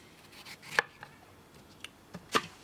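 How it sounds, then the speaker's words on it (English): A knife chopping through a watermelon on a board, a few sharp, sparse cuts with quiet gaps between them, up close and without speech. "use a knife, and cut around it like this"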